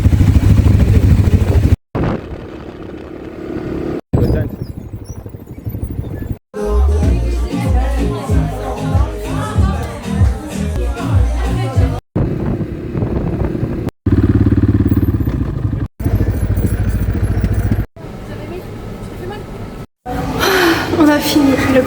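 A quad bike (ATV) ridden on a trip in Italy, its engine buzzing loud and steady in several cut segments with rattling and wind, and voices now and then over it.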